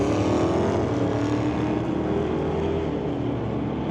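Drag race cars, one an Oldsmobile, launch off the line at an NHRA Summit ET bracket race, with loud continuous engine roar that slowly fades as they pull away.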